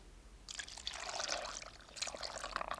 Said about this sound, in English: Time to add in water.